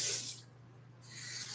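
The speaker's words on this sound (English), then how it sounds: "and then you're going to finish filling it with water" Tap water rushes into a glass bottle with a steady hissing spray that briefly drops away mid-pour and then resumes, close and fairly loud with no talking.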